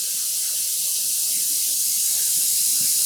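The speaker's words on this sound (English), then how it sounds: "And we're going to add some cold water." Cold tap water pours steadily into a pot to soak wool yarn for dyeing, a constant bright rushing splash close by with no pauses.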